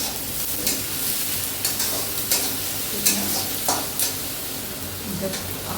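Potatoes fry and get stirred in a pan, a steady broadband sizzle broken by sharp scraping strokes about once a second, close and fairly loud, with faint background noise underneath.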